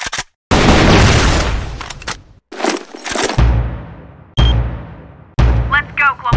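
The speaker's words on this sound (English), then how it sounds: "Flash bomb." Flashbang grenade and gunfire in the shooter Crossfire, several loud explosive bursts with sharp onsets and ringing decays separated by brief silences, followed by a short announcer-like voice.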